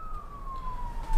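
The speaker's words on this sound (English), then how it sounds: "you can probably hear the siren in the background." A police siren wails in the distance in Niagara Falls, New York, a thin steady tone slowly falling in pitch over constant low background rumble.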